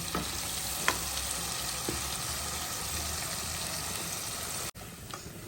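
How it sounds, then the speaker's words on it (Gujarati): Tomato, onion and ginger-chili paste with garlic chutney and turmeric sizzle steadily in hot oil in a pan, a soft continuous fry with a few faint stirring clicks and a brief break near the end. "ટમેટો, ઓનિયન અને આદુ મરચાંની જે પેસ્ટ કરી હતી એ આપણે લસણની ચટણી નાખી છે એ થોડી વાર માટે સાતળી લેવાનું છે આ રીતે તેલમાં"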